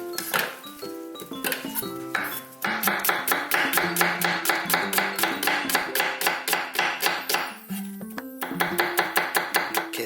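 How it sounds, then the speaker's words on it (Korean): A knife thinly slices onion on a cutting board in a home kitchen, striking in rapid, even strokes across two long runs separated by a brief pause, close and clear. "양파만 밑에 채를 썰어갖고 얇게 채를 썰어갖고 밑에다 깔아줄 거거든요"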